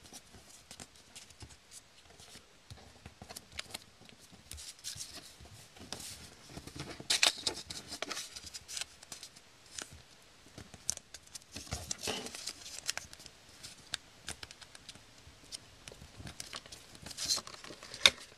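Paper tabs being folded on a papercraft pyramid, close up, with soft irregular crinkles, creases and rustling taps in quiet bursts, no talk.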